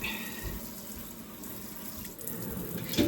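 Hot water runs steadily from a tap into a stopped-up kitchen sink, a continuous splashing rush with no pauses, fairly close and uninterrupted by talk.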